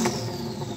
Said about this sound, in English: so I'm going to rev up this Lambo